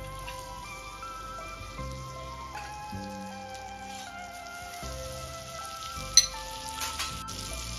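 Butter melts on a hot tava for Mumbai street-style masala pav, giving a soft, steady sizzle that sits low under background music throughout, with one brief sharp tap.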